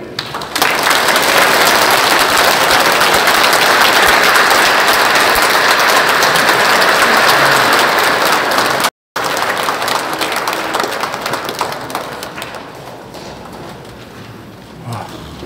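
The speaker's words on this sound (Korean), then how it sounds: "박수 좀 칠게요" Sustained loud applause from a congregation at a Catholic mass in a cathedral, dense rapid clapping filling the space for several seconds before gradually thinning and fading.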